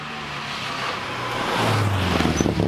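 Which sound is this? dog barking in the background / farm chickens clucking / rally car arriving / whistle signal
rally car arriving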